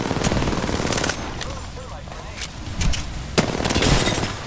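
Rapid bursts of gunfire in a video game firefight, loud crackling volleys repeating over several seconds with sharp cracks, while players shout to each other over the shots.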